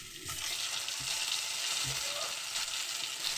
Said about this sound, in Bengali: এবার ওই তেলের মধ্যে আমি আলুগুলোকে ভেজে নেবো ভালোভাবে।